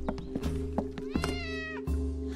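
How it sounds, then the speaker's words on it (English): A cat meows clearly and close by: two short calls followed by one longer, drawn-out meow, heard alone with no talking. "I know that meow."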